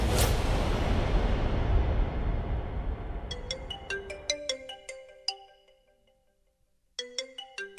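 A phone ringtone plays a bright, chiming melody of repeated electronic tones, breaking off after a few seconds and then starting again.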